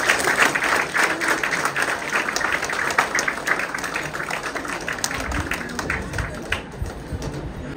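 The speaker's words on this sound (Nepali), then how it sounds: "फेरि एकदम जोरदार ताली बजाएर निवाला स्वागत गर्दछ" Loud, sustained applause from a crowd of guests greets the arriving bride and groom at a Christian wedding in Nepal, dense clapping running steadily from start to finish.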